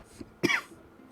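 A single sharp cough bursts out close to the mic after a faint throat sound, then the room goes quiet.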